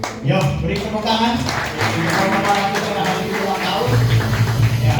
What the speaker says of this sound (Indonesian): Yo, beri tepuk tangan